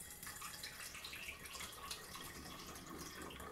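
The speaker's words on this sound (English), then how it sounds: "we're going to pour it in the bottle" Pressed pomegranate juice pours into a glass bottle that already holds some sparkling water, making a soft, continuous splashing trickle, close and alone.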